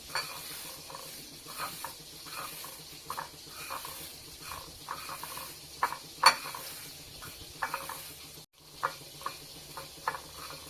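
Fried onion birista being crushed with sugar by hand, soft repeated rhythmic crunching and grinding strokes, fairly faint and close, with no talking.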